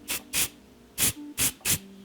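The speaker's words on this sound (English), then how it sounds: "Now this is a temporary spray." Temporary colored hair spray misted onto locs, five short close hissing bursts in quick succession, each lasting a fraction of a second, with brief pauses between them.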